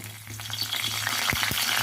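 Curry leaves hit hot oil in a heated kadai, sizzling and crackling with a steady fry hiss and a few sharper pops, close and moderately loud.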